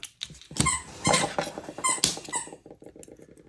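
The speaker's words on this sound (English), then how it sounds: "The squeaking is my little puppy." A small puppy squeaks and whimpers in a run of short, high, irregular yelps close by, tapering off into quieter rustling at a workbench.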